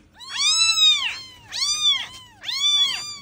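Young kittens in a box give three clear, high meows in a row, each drawn out and separated by short pauses, heard close and alone.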